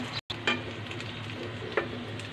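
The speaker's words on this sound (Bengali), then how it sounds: "এটা আর একটু কড়া করে ভেজে নিতে হবে" Prawn fritters fry in hot oil with a steady, fairly quiet sizzle, broken by a short gap near the start and two soft clicks of a utensil.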